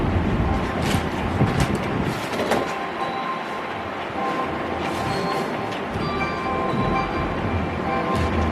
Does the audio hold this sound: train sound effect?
yes